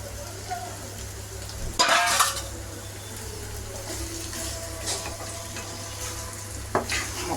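Chicken for gongura chicken curry is stirred in a frying pan, soft continuous sizzling broken by a couple of sharp scraping clatters near the start and end, heard up close without any voices.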